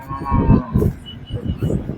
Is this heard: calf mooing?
yes